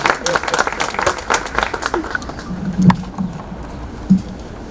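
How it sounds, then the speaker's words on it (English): An audience at a Brooklyn Health Equity Foundation open house applauds as a reverend walks to the microphone, with dense clapping that thins and fades over several seconds and a few louder isolated claps near the end. "Please, a round of applause as he comes up to the microphone"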